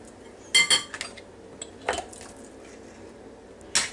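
Mayonnaise spooned into a bowl of potato salad with green and red peppers gives soft, scattered clinks and taps of a spoon against the bowl, quiet and spaced out with no talking.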